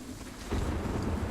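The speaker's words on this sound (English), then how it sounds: "We have a dynamic weather system, so now it's raining." Steady rain in the video game Sniper Ghost Warrior 3, a broad hissing wash that swells louder about halfway through and keeps up as a continuous outdoor downpour with low rumble underneath.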